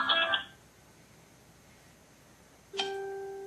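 A phone chimes in a courtroom during a custody hearing, with a short electronic tone at the start and another ringing tone after a quiet pause, clear and fairly close.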